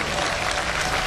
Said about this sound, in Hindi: एक बार जोरदार ताली बजनी चाहिए हमारे अनुज के लिए